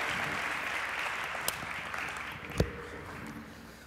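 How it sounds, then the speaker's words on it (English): Audience applause at a 2009 studio interview show, steady and moderately distant, with a couple of sharper claps standing out before it slowly fades. "you gotta keep clapping until he hits his mark"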